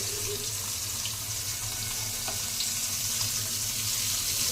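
Fish sizzling in well-heated oil, a dense, even hiss that runs unbroken throughout, fairly close and steady with no voices.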